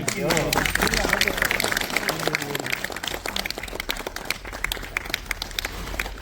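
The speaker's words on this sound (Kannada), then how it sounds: "ಚಪ್ಪಾಳೆ ಬರಲಿ." Audience applause honoring the director and actors of a film at a successful screening event, dense steady clapping mixed with crowd noise and some talk throughout.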